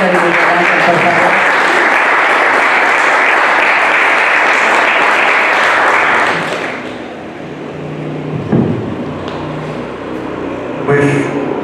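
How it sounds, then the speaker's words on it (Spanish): Loud audience applause greets two speakers at a literary dialogue event, a dense roar of clapping for about six seconds before it fades to scattered claps, shuffling and room noise. "Un aplauso para Héctor y Miguel Ángel, por favor."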